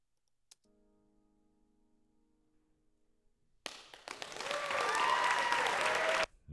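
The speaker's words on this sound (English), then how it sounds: "I don't particularly care for that first really loud clap, and that kind of faded" Audience applause at a recital swells in suddenly after a sharp single clap and a quiet sustained tone, a dense patter of many hands that holds steady for a few seconds, then cuts off.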